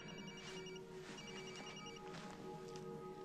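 A telephone rings with repeated electronic trilling bursts, faint and slightly distant, over a low room hum, with no voices.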